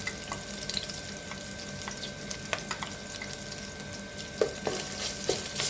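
Ginger garlic paste with green chillies frying in a pan for Guntur gongura pulav gives a steady, soft sizzle, with occasional light clicks from stirring and no voices.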